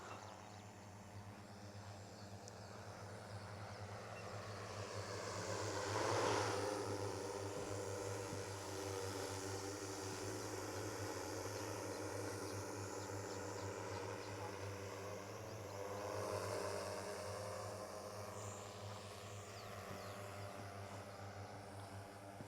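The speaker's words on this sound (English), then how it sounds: "Another pilot is flying the drone." A small remote-controlled drone flies steadily nearby during a buddy-box training session, a continuous buzzing whine that swells at moments as it passes closer, heard alone without talk.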